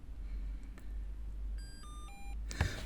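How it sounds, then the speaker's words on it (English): A key programmer for a Vauxhall Corsa E sounds a short series of electronic tones, several clean stepped beeps in quick succession, fairly faint over a low background hum. "A couple of flashes and one green beep tells us we've got one key programmed."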